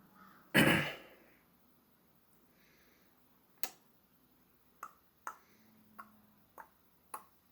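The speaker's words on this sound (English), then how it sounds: "Bird again." A single loud bird caw sounds close by near the start, then a series of sharp, faint clicks spaced out over several seconds in a quiet room.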